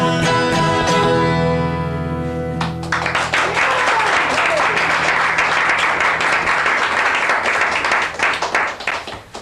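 A concert audience applauds as a song's last sustained notes end, breaking into loud, dense clapping that goes on steadily and then thins out toward the end.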